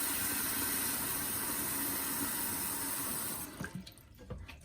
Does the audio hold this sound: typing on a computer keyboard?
no